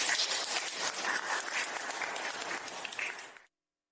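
A steady, dense round of applause from an evening event audience fills the space at moderate level, then cuts off abruptly near the end.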